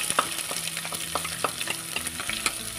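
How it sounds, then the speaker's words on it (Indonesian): Shallots, garlic and chili are sautéed in oil in a pan, giving a close, busy sizzle broken by frequent scraping stirs of a utensil, with no talking. "Ini ditumis sampai layu."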